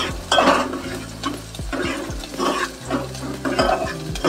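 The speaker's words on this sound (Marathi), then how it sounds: "आणि याच चमच्याने आता ढवळून घेऊया भाजी केलेली. थोडा कांदा जरा भाजू दे." A spoon stirs onion and vegetables frying in a pan for an eggplant, potato and dried shrimp dish, close scraping strokes recurring in a steady rhythm over a continuous low sizzle, with no talking.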